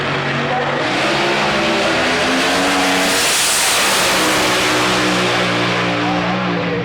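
A loud drag racing car engine roars continuously at Santa Pod, pitch climbing as it accelerates hard off the start line, with a swell of noise mid-run.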